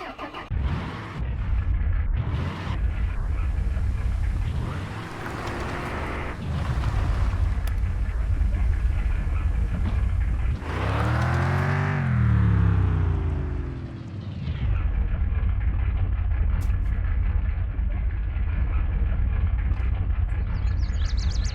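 A car engine in Mon Bazou drones steadily as the car is driven, rising in pitch as it revs in the middle and then settling back into a constant rumble, loud and close, with no voices.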